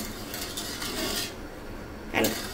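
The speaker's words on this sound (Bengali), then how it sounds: "নেড়ে চেড়ে চিনিটাকে গলিয়ে নিতে হবে।" A utensil stirring sugar and water in a pot on the stove to melt it, giving a continuous close scraping and rubbing with faint metallic clinks, ending in one louder knock against the pot.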